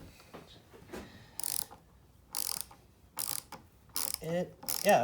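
A mini ratchet from a Craftsman, Wurth and Hypertough set comparison clicks as it is turned, giving several bursts of rapid pawl ticks separated by short pauses, close and fairly loud.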